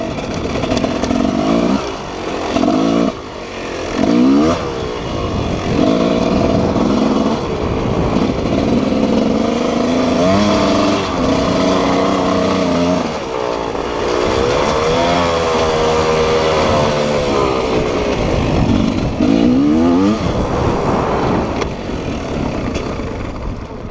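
Motocross motorcycle riding laps on a training track, its engine loud and close throughout, rising and falling in pitch as it revs, shifts and accelerates out of turns, with no voices heard.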